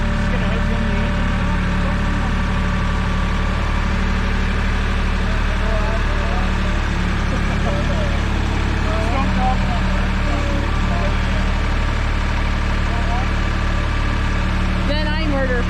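A 1990 Dodge D150 pickup truck engine idles loudly and steadily throughout, a constant deep rumble with faint voices now and then.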